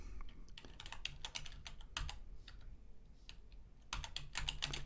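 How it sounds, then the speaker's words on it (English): Keys clatter on a computer keyboard in quick irregular bursts with brief pauses, close and fairly quiet, as calibration coefficients are entered into an analyzer. "We do that by typing coefficients"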